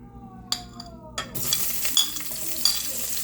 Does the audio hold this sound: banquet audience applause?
no